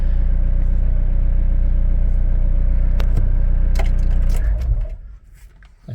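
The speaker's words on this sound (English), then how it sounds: "Yeah, fantastic engine." A VW T4 camper van engine idles close by with a steady, loud diesel-like clatter and a few knocks before it shuts off and falls quiet.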